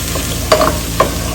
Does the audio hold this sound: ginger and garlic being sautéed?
yes